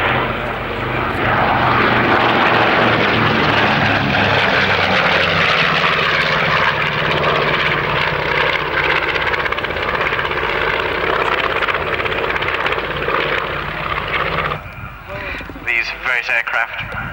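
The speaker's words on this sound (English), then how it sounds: "Royal Air Force Finningley Station Flypast" Aircraft roar overhead in a loud, sustained flypast at RAF Finningley air show, a broad engine drone that fades down near the end, with an announcer talking over it.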